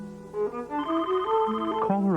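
A telephone rings in a mid-1990s Ameritech Caller ID advertisement, a melodic electronic ring with steady tone that shifts pitch a few times, close and clear for about two seconds with no talking.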